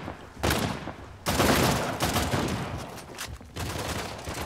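Shotgun blasts in Uncharted: The Lost Legacy, a few loud, close bursts of gunfire with short gaps between them and a rumbling tail after each one.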